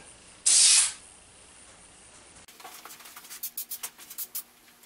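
WD-40 aerosol sprays onto a CNC machine in one loud, half-second hiss burst, followed by quieter crackling and fizzing as the foam settles.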